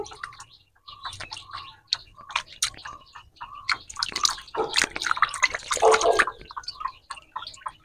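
Carrots being washed by hand in fresh water while preparing vegetable chowmein, giving soft drips, splashes and wet squishing in a quick irregular rhythm, close and moderately loud, with no talking.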